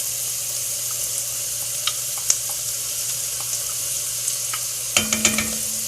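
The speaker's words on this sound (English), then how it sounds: "Alright, so there's the garlic and the anchovies, and you're just going to stir that around." Garlic, anchovies and onions frying in a pan, a loud constant sizzle with occasional clicks and clatters of stirring, plus a brief burst of utensil knocks near the end.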